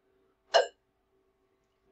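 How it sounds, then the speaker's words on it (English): A single short, close burp during a blooper take, standing alone in near silence, followed by the start of another brief vocal sound at the very end. "Did you burp, Spiffy Pictures?"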